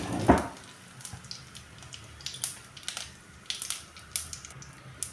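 Green cumin seeds and two bay leaves drop into hot cooking oil with a brief loud splash, followed by light crackling and sputtering sizzles that pop intermittently.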